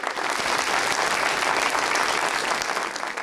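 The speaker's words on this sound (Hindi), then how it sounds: "आपकी भरपूर तालियों में" Studio audience applause greeting a retired flight lieutenant on a television program, a full, continuous roar of many hands clapping, loud and close throughout with no voice over it.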